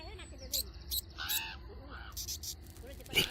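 Crows caw several times in harsh, separate bursts over a soft ambient bed, fairly close, with a louder call at the end.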